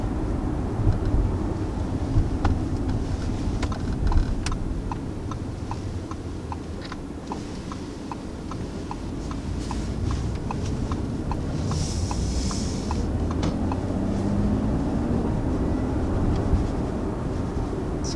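A 2019 Audi A6 sedan accelerating, heard from inside the cabin as a low, smooth road and engine rumble, with a regular soft ticking, like a turn signal, running through the middle.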